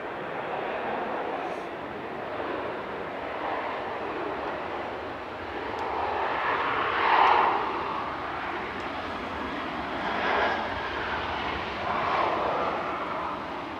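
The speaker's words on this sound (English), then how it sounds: "Ryanair 2071 from Alicante just arrived" A Ryanair jet arriving from Alicante rumbles past at Manchester Airport, a broad, steady engine roar with swelling peaks heard from a distance, no talk.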